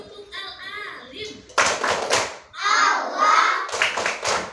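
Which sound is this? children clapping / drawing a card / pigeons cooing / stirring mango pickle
children clapping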